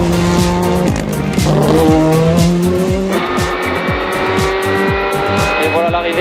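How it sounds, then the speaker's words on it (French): A rally car on a fast special stage roars close with its engine revving high, then brakes hard with tires squealing, the engine note stepping down through quick gear changes. "Et un énorme freinage."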